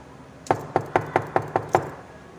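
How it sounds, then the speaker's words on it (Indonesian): Knuckles rap on a bedroom door six times in an even, steady rhythm, each knock crisp and close against a quiet room. "mendengar pintu kamarnya diketuk"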